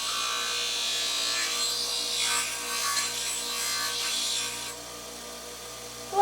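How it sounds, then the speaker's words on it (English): Small bits on the end of a small spinning handmade piece, likely a jewelry-sized item, are ground down by hand indoors in a sunroom, giving a steady, close abrasive rubbing that runs continuously before easing off near the end. "Now I'm going to try and grind down these little bits on the end."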